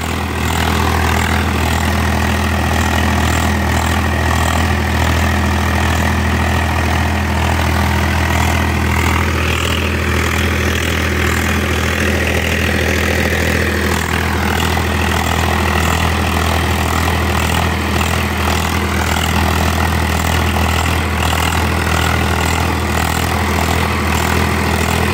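An HMT tractor engine with a changed silencer idles steadily throughout, an 8-foot rotavator attached, a low constant rumble with a slight rise in pitch near the middle, no voices.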